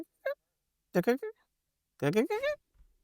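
A voice imitates a bird call in short honking bursts, a single note, then a pair, then a longer run, with silence between.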